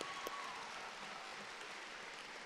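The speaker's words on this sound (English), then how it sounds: "give these exceptional, talented students a well-deserved round of applause" A crowd applauds steadily at a spring 2017 afternoon commencement ceremony, a soft, even wash of clapping that carries on throughout, with no voices rising above it.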